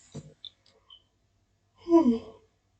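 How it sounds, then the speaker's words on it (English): A person's single drawn-out yawn, a voiced exhale that swells and slides downward in pitch over about half a second, preceded by a few faint breaths and mouth clicks in otherwise quiet surroundings. "I knew that yawn was coming. It was like stuck in my throat."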